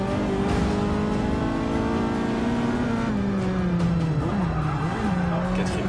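Racing car engines in the Forza Motorsport 6 video game drone loudly and continuously, the pitch rising and falling through gear shifts, with tire squeal and skidding mixed in throughout the lap.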